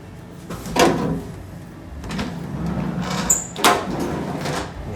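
A bathroom door in a room at the Sakura Hotel in Kyoto opens and closes in a few nearby wooden knocks and clicks, with a soft latch click in the middle and a firmer bump near the end, no talking.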